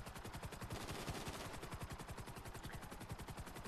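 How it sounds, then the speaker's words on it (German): Automatic gunfire fired from a helicopter during a GTA Online battle against the police: a loud, steady stream of rapid shots, with no gaps and no talk. "Die anderen ballern fleißig aus dem Heli raus."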